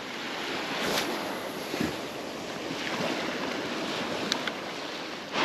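Waves wash over a reef on the Sussex coast at a rising tide, a steady broad roar of surf with wind buffeting the microphone and occasional sharper splashes. No voices are heard.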